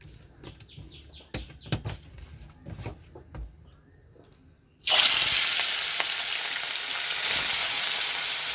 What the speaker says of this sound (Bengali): তাহলে মাছটা আমি এখন ভাজা করব।